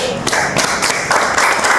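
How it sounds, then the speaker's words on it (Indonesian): A handful of people clap in a short burst of uneven, close hand claps during a podcast. "Tepuk tangan dulu."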